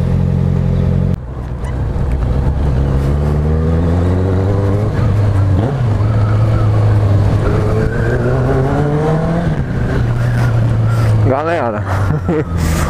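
Motorcycle exhaust fitted with a DB Killer baffle insert, heard as a loud, close engine note that idles, then rises and falls through several revs with sweeping pitch changes, while a person talks over it in places.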